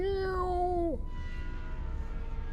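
A cat in Iron Nest lets out one clear, loud meow that bends downward and stops abruptly, leaving a low steady background hum.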